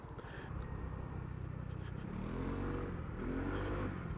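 A Lexmoto Aura 125cc scooter runs on a night ride, its engine revving and rising in pitch under throttle with a lagging pickup, over road and wind noise.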